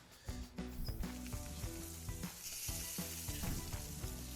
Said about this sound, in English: Now that our filet is on the grill